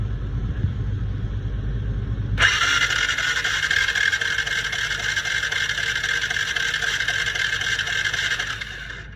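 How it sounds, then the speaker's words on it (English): A Honda Fourtrax ATV cranks over without firing: after a low background rumble, a steady, close starter whir kicks in abruptly and runs continuously for about six seconds before stopping. "we're gonna go ahead and crank her over here quick"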